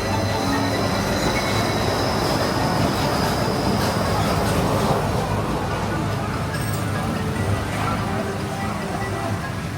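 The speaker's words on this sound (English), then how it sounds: "remain seated until the train comes to a full and complete stop" A Disneyland train rumbles loudly and steadily as it comes to a stop, with wheels squealing faintly and a constant mechanical roar throughout.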